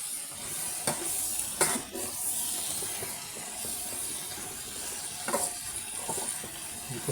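Cabbage sautéing in a pan with tofu and ground meat gives a steady sizzle and hiss, with occasional scrapes and stirring knocks from the utensil against the pan throughout.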